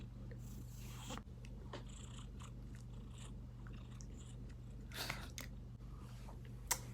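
A cat munches on a crunchy treat close by, with soft bites and chewing clicks over a low steady hum; scattered small noises, no talking.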